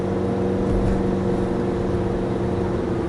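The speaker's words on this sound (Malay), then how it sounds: "Boleh dengar dia punya enjin sedang berjalan sedikit. Bunyi enjin." A Nissan Serena facelift on a test drive, its engine running with a steady low hum and drone inside the cabin, mixed with road and wind noise at a constant level.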